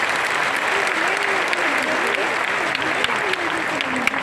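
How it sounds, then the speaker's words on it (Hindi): An audience at a DXN meeting breaks into steady, enthusiastic applause for new guests, a dense wash of clapping that holds throughout. "एक जोरदार तालियां हमारे नए मेहमानों के लिए"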